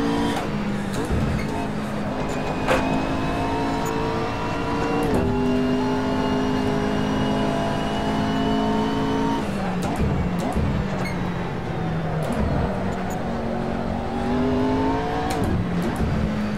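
A McLaren MP4-12C GT3 racing car in a driving simulator, its engine droning steadily and climbing in pitch through the gears, with sharp upshifts and a drop to a lower tone midway before revving up again, loud and continuous.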